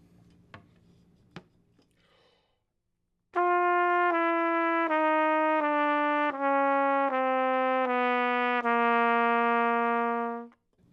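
Trumpet playing a descending chromatic scale from G down to C: eight clear sustained notes stepping steadily lower, loud and close, after a few faint clicks.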